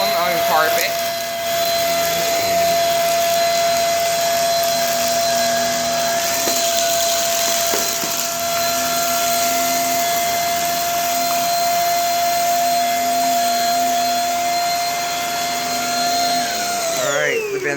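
Shark Rocket vacuum with its powerhead running on carpet during a big-mess cleanup, a loud continuous motor whine with a steady tone that spins up at the start and winds down near the end, close by.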